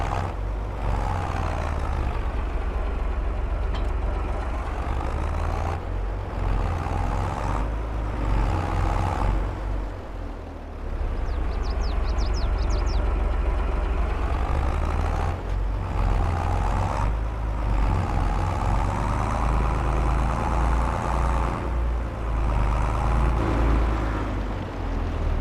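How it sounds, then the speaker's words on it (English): A farm tractor's engine runs steadily while ridging a field, a loud, continuous low rumble with a few brief dips and a short high mechanical squeal partway through. "This is a good tractor here."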